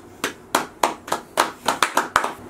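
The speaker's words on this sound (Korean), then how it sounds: "박수." Four men around a drinking board game give a short, scattered round of claps: about ten sharp, separate hand claps at an uneven rhythm, close by.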